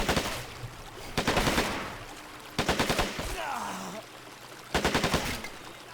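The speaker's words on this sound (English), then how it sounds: "so little gunfight in the open here" Gunfire in the video game Men of War: Assault Squad 2 during an open-ground firefight: three rapid automatic bursts, each about half a second long, separated by quieter gaps with a steady low rumble and some distant battle noise.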